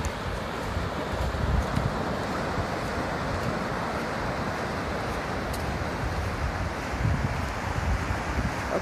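Waves wash onto an empty beach as the tide comes in, heard as a steady broadband rush mixed with heavy wind buffeting the microphone.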